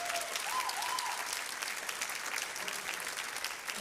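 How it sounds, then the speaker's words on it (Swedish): An audience at a church gathering applauds to welcome a speaker, a continuous warm wash of clapping from many hands, moderately loud and sustained throughout, with a brief faint tone near the start. "låt oss välkomna honom igen med en varm applåd här"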